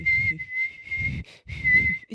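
High-pitched human whistling holds a piercing, steady tone, broken by a few short pauses into repeated phrases over a low background rumble.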